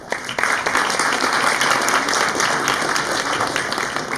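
Audience applause at an India Day celebration, a steady wash of many hands clapping that swells in after a brief quiet start and holds at an even, fairly loud level.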